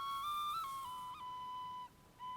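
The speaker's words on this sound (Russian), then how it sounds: "Вот таким образом делается свисток на игрушке." A handmade Crimean Tatar toy whistle sounds a clear, fairly loud tone in several sustained blows, with brief pitch wavers and a short break near the end, heard alone.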